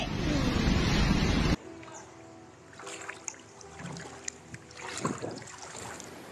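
Floodwater rushes in a strong current, a loud roaring wash for a second and a half, then cuts to a quieter scene with scattered splashes, knocks and faint voices.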